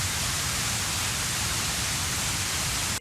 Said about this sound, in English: This is minus 20 LUFS pink noise, and it's a good reference.